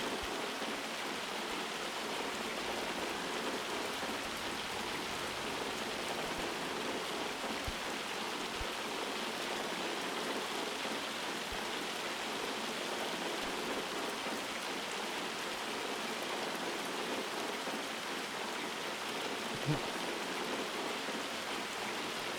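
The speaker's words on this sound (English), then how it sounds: "So, looks like the rain's supposed to end around 10 o'clock." Rain falls steadily on a homestead, a continuous, even hiss of drops that stays at a moderate level throughout with no talk or other distinct sounds.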